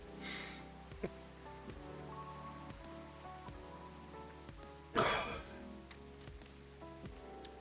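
Soft rain falls steadily in the cafe video game Coffee Talk, a faint hiss with scattered drops and light ticks, plus one louder burst of noise partway through, quiet overall with no clear talk.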